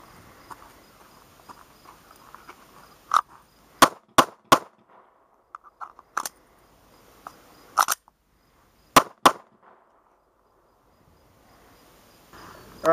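Handgun racked off a holster and loaded one-handed, the slide and magazine producing a series of sharp metallic clicks and clacks, close and crisp, spaced irregularly over a quiet background with no talking.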